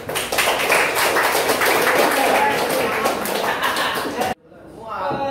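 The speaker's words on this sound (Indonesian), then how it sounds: "Kita berikan aplaus semuanya. Tepuk tangan yang meriah." A classroom of students clapping together in applause, loud dense hand claps for about four seconds before cutting off abruptly, followed by faint murmuring.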